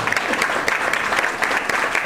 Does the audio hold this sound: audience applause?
yes